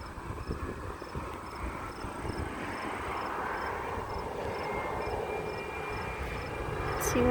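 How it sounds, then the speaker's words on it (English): Learjet business jet passing overhead at Dulles Airport, a broad whooshing roar that builds steadily louder toward the end, with insects chirping in the trees nearby. "Oh, it's a Learjet."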